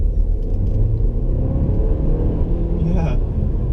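A 2019 Renault Kadjar with four-wheel drive accelerates, a steady loud engine rumble and road roar heard from inside the cabin, with a brief higher whine near the end.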